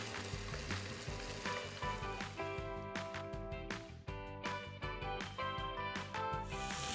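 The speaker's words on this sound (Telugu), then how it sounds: "తర్వాత కట్ చేసుకున్న ఉల్లిపాయలను వేసి బాగా గోల్డెన్ కలర్ వచ్చేదాకా వేపాలండి" Chopped onions frying in hot oil to golden brown for methi chaman, with a steady close sizzle and occasional stirring under a rhythmic musical backing track, with no speech.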